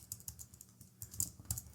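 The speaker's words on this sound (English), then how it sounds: "I'll go ahead and start typing it." Quiet keystrokes on a computer keyboard while code is entered, a loose run of soft clicks with a few sharper taps, close and on their own.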